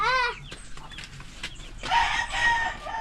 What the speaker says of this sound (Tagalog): Meron naman tayong naglimlim dito.